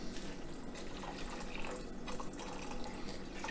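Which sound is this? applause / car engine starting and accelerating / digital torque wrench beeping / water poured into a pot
water poured into a pot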